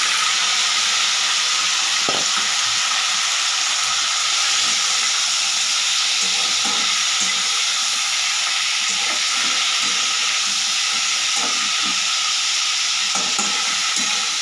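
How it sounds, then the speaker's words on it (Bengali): Salted, turmeric-coated prawns frying in a pan with crushed garlic, a loud, continuous close hiss and sizzle with a few faint stirring clinks, no talk. "চিংড়ি মাছটা একটু ভালো করে ভেজে নিলাম, আর একটু ভাজা হবে"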